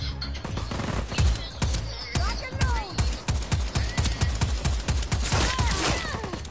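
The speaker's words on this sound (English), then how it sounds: "I just sniped two people." Gunfire in the video game Just Cause 4 cracks in a rapid run of sharp, evenly spaced shots about three per second, loud and close, with a voice faintly under the shots.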